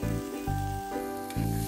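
Cubed tomatoes sizzle in ghee in a pan as they are stirred, a continuous frying hiss behind a loud recurring background hum.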